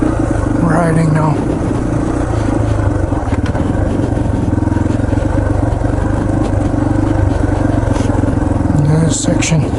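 Yamaha TTR 230 dirt bike engine droning steadily while riding a rough trail at Windrock Park, loud and continuous with clatter from the terrain, while a rider talks over it.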